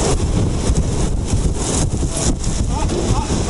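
Strong, roaring storm wind in the mountains of Croatia buffets the microphone in constant broadband gusts, loud and close, with no voices.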